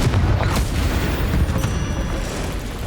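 A Confringo fire spell blast in Hogwarts Legacy on Switch, a dense rumbling boom with crackling bursts that stays loud and sustained throughout, alone without speech.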